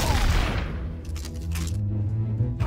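Gunfire in the Trouble in Terrorist Town video game: a loud burst of rapid shots opens, followed by fading echoes and softer scattered reports.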